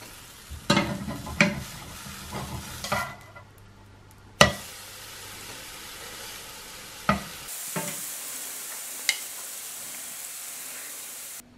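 Thin pancake batter sizzles in a pan, broken by sharp clacks and scrapes of a spatula turning it, with a steady hiss running underneath.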